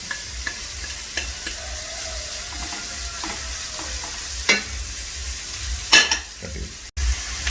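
Onions sauté with salt in a pan for a Kerala-style pearl spot fish dish, giving a steady soft sizzle broken by a few sharper stirring clacks near the end.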